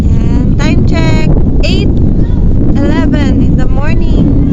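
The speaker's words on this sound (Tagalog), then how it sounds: "Malakas pa rin ang hangin." Strong wind at sea buffets the microphone in a constant loud low roar throughout, with a voice speaking intermittently over it.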